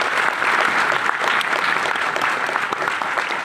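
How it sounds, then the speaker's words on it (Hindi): An audience at a motivational talk claps together in a dense, steady burst of applause that stays loud and even for a few seconds before tapering slightly at the end. "एक बार ताली बजा दो,"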